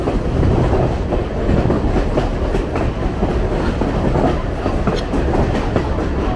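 Steady rumble and rhythmic clickety-clack of a Reading & Northern charter passenger train riding through the mountains, heard continuously from onboard, with wheel beats and rail joints repeating close by.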